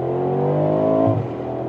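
An updated Mercedes G-Class drives past with a steady, fairly loud engine drone and rising harmonic tone that dips slightly near the end, no voices.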